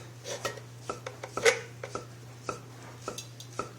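Bamboo shoots being smashed for Lao bamboo shoot soup, a series of sharp, fairly close knocks and crunches at an uneven pace, with a low steady hum underneath.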